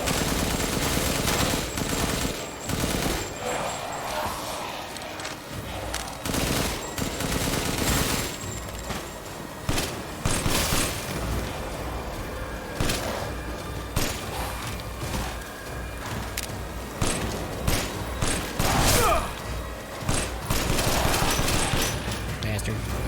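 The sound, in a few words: big gun firing in video game Resident Evil Village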